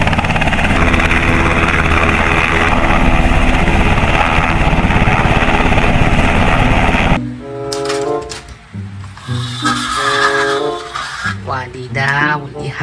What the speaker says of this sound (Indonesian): Wow, ada helikopter ya.